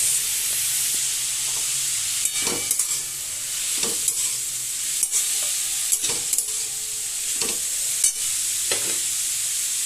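Spring onion sautés in a pan with a continuous close sizzle, broken by repeated scraping stirs of a utensil every second or two, and no one speaks.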